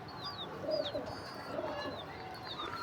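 Soft pigeon coos repeat a few times against a steady outdoor background, with faint chirps from other birds higher up.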